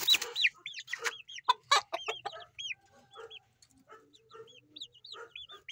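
Young chickens of silkie bloodline, one a possible hen, cluck and cheep up close in quick, bouncing bursts that overlap at first and then thin into scattered calls, with no talking.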